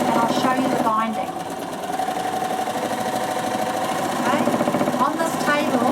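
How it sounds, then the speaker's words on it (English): Bernina sewing machine stitching on a table, a loud close mechanical whir with a rapid shuddering needle rhythm running continuously while someone talks over it. "On this table, the machine doesn't move, but it makes a bit of a shuddery sound."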